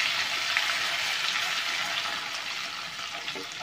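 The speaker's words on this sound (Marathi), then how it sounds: "आता हे व्यवस्थित मिक्स करून घ्यायचं आहे." Katachi amti, a Maharashtrian lentil curry, stirred in a pan. A constant bubbling hiss fills the short stretch, close and fairly loud.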